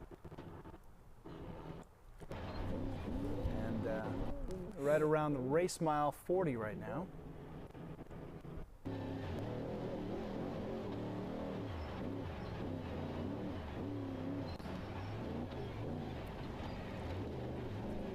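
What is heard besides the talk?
off-road race truck engine heard in-car, Baja 400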